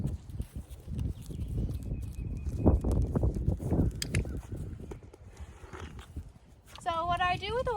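A horse's hooves clip-clopping as it walks, close by and moderately loud in the first half, quieter later, with a whinny-like tonal sound near the end.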